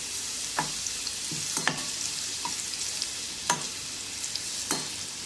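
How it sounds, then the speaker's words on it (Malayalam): Pappadams sizzling in hot oil as they are stirred in a home kitchen, a steady hiss of frying with several sharp, close utensil knocks and scrapes at irregular intervals, no speech. "നമുക്കിനി പപ്പടമൊക്കെ വറുത്തെടുക്കാം"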